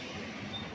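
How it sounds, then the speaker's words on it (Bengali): A commuter train pulling into Sealdah station in Kolkata, a steady broadband rumble of rolling cars filling the short moment without speech. "ঢুকে গেল ট্রেন"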